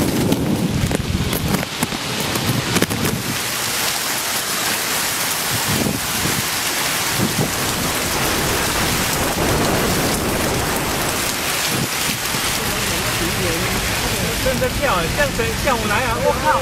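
Heavy typhoon rain lashing down during a 2015 storm in Taiwan, a loud, unbroken roar of rain and gusting wind that lasts throughout, with voices talking faintly through it.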